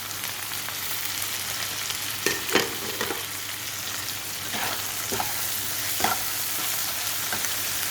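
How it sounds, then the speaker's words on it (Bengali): Ginger and boiled fenugreek fry in oil in a pan with a continuous close sizzle, broken by several scraping, clattering strokes of a spatula as the mixture is stirred at irregular intervals. "তা এবার আমার আদাটা মোটামুটি ভাজা হয়ে এসছে। এর মধ্যে এবার আমি দেব"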